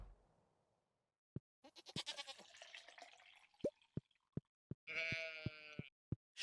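Sheep bleat in the Stardew Valley farming video game during winter. The wavering bleats are close and moderately loud, coming once early and again later, mixed with evenly spaced soft dripping plinks and a quiet stretch in between.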